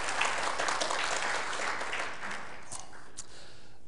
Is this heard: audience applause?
yes